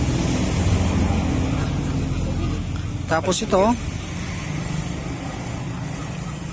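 A cold, noisy Suzuki Raider 150 FI motorcycle engine idles close by with a steady rough drone, while someone speaks briefly over it and a short squeaky scraping burst cuts in midway.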